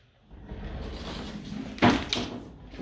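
A closet door in a North Myrtle Beach house rolls or swings open with a soft scraping slide and then a sharp knock as it stops, heard close indoors with no talking.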